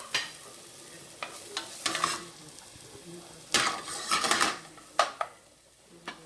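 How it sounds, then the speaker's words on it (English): A chopped shallot and onion sauté in a pan on a home stove while a utensil stirs and scrapes them, giving a light sizzle broken by intermittent clanks and scrapes of the pan. "So I'm going to saute the onions a little bit"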